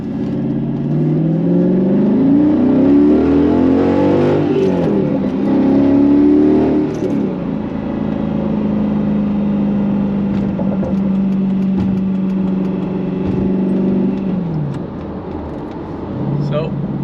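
A Mercedes C55 AMG revs through a first gear launch, its engine note rising and falling in a loud sustained drone, then settling to a steady hum, with people talking over it.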